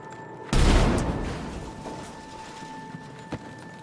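A frag grenade detonates in a first-person shooter game with one sudden loud boom that decays into a long rumbling tail, followed by a small thud near the end.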